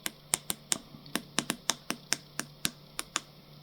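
Control buttons on an ONWA KP-27A chart plotter click sharply one after another, about a dozen close, crisp presses at an uneven typing-like pace with no voice over them.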